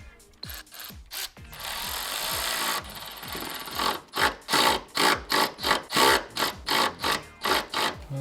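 A power tool whirs in short repeated bursts, about a dozen quick pulses with brief pauses between, preceded by a longer steady run and some scraping handling noises, bolting down a boost gauge sensor on a Toyota Crown with a 1JZ engine.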